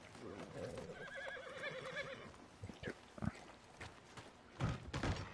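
Horses whinny in Red Dead Redemption II, a harmonic neighing call standing out in the first seconds over ambient game noise, followed by scattered thuds and clip-clop-like knocks.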